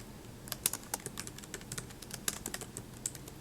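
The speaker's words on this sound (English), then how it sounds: "So in cell A1, just start typing first" Fingers type on a computer keyboard entering text into a spreadsheet cell, a quick irregular run of close, crisp key clicks with no talk.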